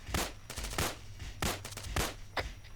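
Gunfire in Arma 3 during a military training exercise, several separate sharp shots in an irregular rhythm, some quick pairs, at moderate loudness over a low steady hum, with no one speaking.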